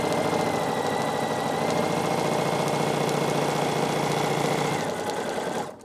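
A Bernina sewing machine with a built-in walking foot runs a continuous straight stitch through quilt blocks, a fast steady mechanical whir and clatter, up close and alone, stopping abruptly at the end.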